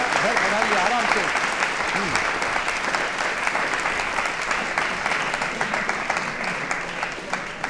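Audience applause at a college election-themed quiz show held at an institute of technology and management: sustained, dense clapping from a sizable crowd, steady and fairly loud throughout, with a few faint voices and cheers mixed in.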